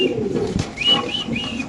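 White Spanish and King pigeons coo close by, a soft warbling call rising and falling over the short stretch, with faint background noise.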